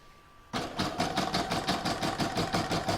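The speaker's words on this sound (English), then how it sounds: "I'm going to pop that into my machine and stitch round number 1" After a quiet moment, an embroidery machine starts stitching a placemat outline, settling into a fast, even mechanical rhythm of needle strokes that carries on steadily.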